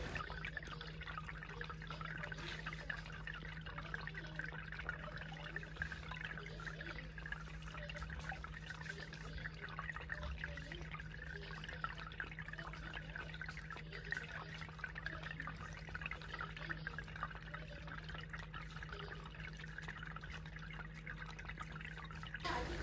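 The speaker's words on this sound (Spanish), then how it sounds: "Están obsesionados con esta fuente de agua." A pet drinks from a pet water fountain, with soft trickling and light lapping over the fountain pump's steady low hum, close and quiet, continuing evenly without speech.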